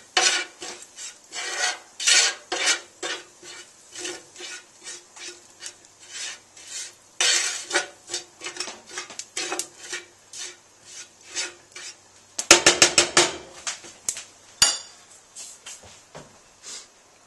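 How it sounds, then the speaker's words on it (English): Garlic substitute being stirred in a cooking pan, repeated scraping and rasping strokes of a utensil against the pan in an irregular rhythm, close and fairly loud, with a brief clatter near the end. "And just kind of stir it up."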